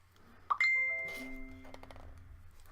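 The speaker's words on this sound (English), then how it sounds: "excuse my phone, I keep forgetting to put it on Do Not Disturb" A phone alert chimes once: a sharp electronic ding followed by a sustained ringing tone with layered notes that slowly fades over a couple of seconds in a quiet room.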